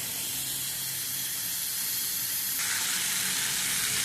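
Potol, potato and drumstick pieces fry in a pan for a chorchori, giving a steady close sizzle and hiss that runs unbroken for the whole stretch, with no talking.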